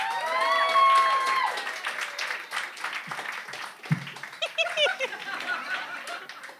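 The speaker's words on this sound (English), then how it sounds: "Can we have an applause for Hat Bitch?" Applause with whoops and laughter from a small crowd at an open mic night, clapping loudest at first and tapering off into scattered laughs and cheers.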